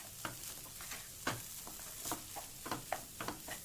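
Cooked rice is stirred in a hot pan, with a low background sizzle and a series of irregular scraping and tapping strokes from a spoon against the pan, close and fairly quiet.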